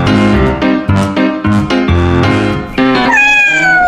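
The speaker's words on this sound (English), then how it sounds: "Cat." A cat meows loudly and repeatedly, a rapid series of close, insistent cries ending in a long, drawn-out wail.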